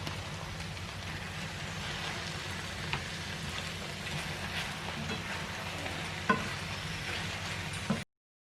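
A bag of frozen baby spinach sizzling in a pan, a steady, even crackle like light rain that stays faint and unbroken with no talking, ending abruptly.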